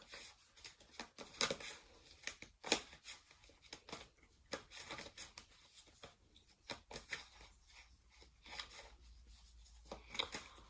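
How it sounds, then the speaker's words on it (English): Tarot cards being shuffled during a full moon healing circle give soft, irregular riffles and snaps close by, quiet, with brief flurries and pauses between them. "I'm just shuffling some other cards."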